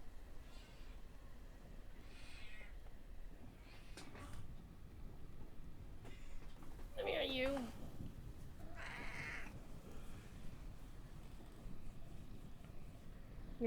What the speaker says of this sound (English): He's meowing, but he doesn't want to get up.